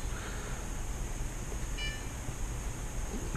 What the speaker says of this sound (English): I heard the beep.